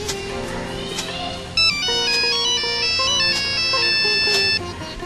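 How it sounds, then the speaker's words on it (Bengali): A mobile phone ringtone for an incoming call plays a bright repeating electronic melody, loud and close, for several seconds with no voices over it. "স্যার নিজামে ফোন দিছে স্যার"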